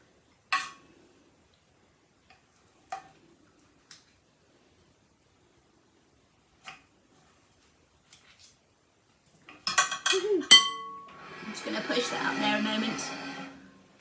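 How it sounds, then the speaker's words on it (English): A few sparse metallic clinks of a utensil against a roasting tin, then a dense burst of scraping as soft roasted pumpkin flesh is scooped out, with some talk nearby. "I can just scrape the soft flesh out of the inside"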